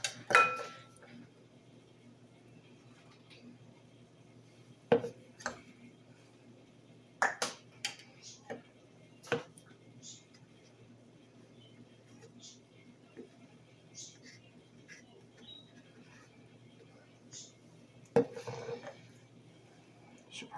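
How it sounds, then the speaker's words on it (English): A utensil scraping peanut butter out of a nearly empty jar, scattered sharp scrapes and clinks against the glass, spaced irregularly under a voice talking quietly. "Now, I'm going to scrape in this one because they almost finished this jar."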